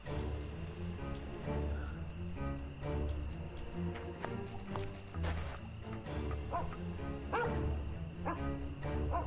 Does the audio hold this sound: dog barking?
yes